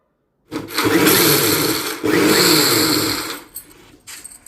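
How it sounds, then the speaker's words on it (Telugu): A loud mixer grinder on pulse mode, coarsely grinding for gobi paratha, whirs in two short bursts, stopping briefly in between, then cuts off and falls quiet. "పల్స్ మోడ్లో గ్రైండ్ చేసుకుంటూ కచ్చా పచ్చాగా చూసుకుంటూ"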